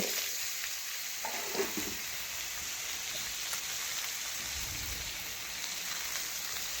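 Pumpkin pieces fry in oil with a bay leaf and dried chillies, giving an even, fairly quiet sizzle with scraping sounds from stirring and no voices.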